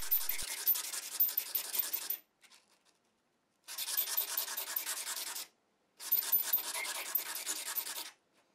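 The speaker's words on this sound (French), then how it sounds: "on va passer chacune des quatre faces sur du grain 500 pour enlever les stries" Diamond-section leather awl blade rubbed back and forth on a 500 grit sharpening stone, three sustained gritty scraping passes separated by short pauses, close and fairly loud with no talking.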